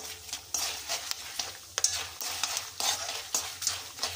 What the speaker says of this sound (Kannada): ಹುಣಸೆ ಹಣ್ಣು ಚಟಪಟ ಅಂತಿದೆ